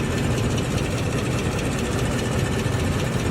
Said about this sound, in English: this engine right here is a perfect example of a follower that has just was let go way too long